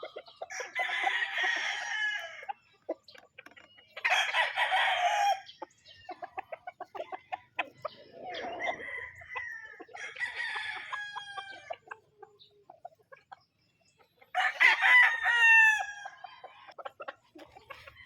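Raptor Sweater gamefowl roosters at a game farm in Kanawayon let out several loud, drawn-out crows, one after another, with softer clucks and scattered bird calls in the quiet gaps between.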